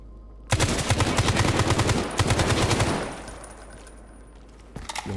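Rapid automatic gunfire from the player's weapon in a first-person shooter game, a dense burst of loud shots lasting about two and a half seconds, then fading into ambient noise with a brief clatter at the end.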